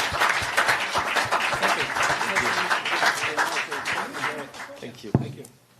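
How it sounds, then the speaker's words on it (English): Applause from a forum audience for a panel discussing Indo-Pacific alliances, a dense wash of many hands clapping at steady loudness that thins and fades out near the end. "Round of applause."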